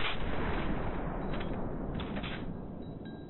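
Gunfire in the PlayStation 4 video game Cuisine Royale: a loud, dense burst of shots and rumbling blast noise that holds steady for a few seconds before slowly fading, with no talking.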